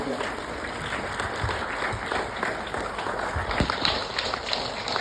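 A seated audience at a gathering honouring volunteers breaks into applause, a steady, even wash of many hands clapping at moderate distance with no single voice standing out.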